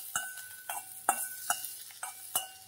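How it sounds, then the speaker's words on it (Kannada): Sliced onions frying in hot oil for a dill-leaf bajji palya, heard as a steady low sizzle broken by several close, sharp clinks and scrapes of a utensil stirring the pan. "ಈ ಈರುಳ್ಳಿನ ಹಾಕ್ತೀನಿ. ಇದನ್ನ ಒಂದು ಸ್ವಲ್ಪ ಫ್ರೈ ಮಾಡಬೇಕು."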